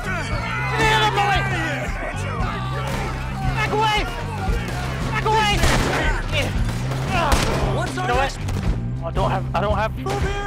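Gunfire during a camp attack in Red Dead Redemption 2, with repeated sharp shots crackling through a busy firefight under shouting voices and game music.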